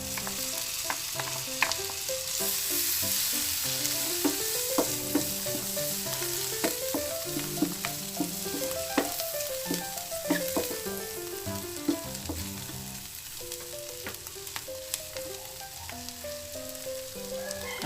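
Mushrooms frying in a pan for a sisig gravy, giving a steady close sizzle with intermittent stirring clatter, while melodic tones play throughout.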